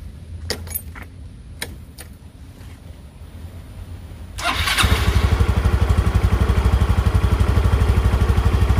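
A Yamaha Mio i 125 scooter with an idle problem. A few light clicks and key jingles come first, then the engine fires and settles into a loud, steady, rapid idle chug close by.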